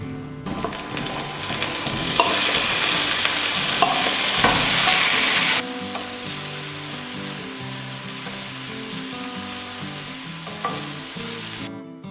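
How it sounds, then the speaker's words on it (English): Cauliflower and potato pieces fry in oil in a pan, giving a steady close sizzle with occasional stirring clatter, louder in the first half and then settling to a softer, even crackle. "we'll add some oil to it and fry the cauliflower and potato"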